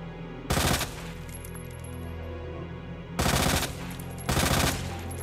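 Three loud bursts of automatic gunfire from Resident Evil 2, each lasting under a second, with a low background hum filling the gaps between them.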